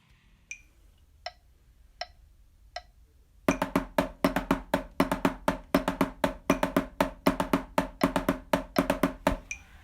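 Drum kit playing a herta rudiment in a triplet groove: a few sparse clicks, then a dense, loud run of rapid repeated hits in a steady rolling triplet pulse, heard alone without talk.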